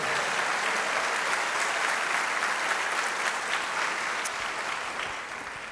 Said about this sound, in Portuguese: Então aplaude esse Deus